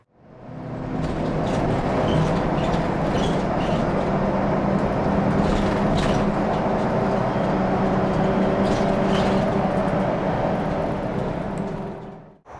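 A commuter bus converted to run on vegetable oil works a business park route, its engine a steady, continuous rumble close by, with faint rattles and road noise riding over the drone throughout.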